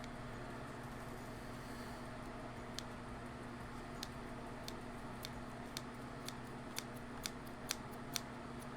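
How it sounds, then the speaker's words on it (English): Scissors snip repeatedly at a string while a converse bracelet is being made, a series of faint, sharp clicks spaced less than a second apart over a quiet room hum. "just keep on cutting until eventually it cuts"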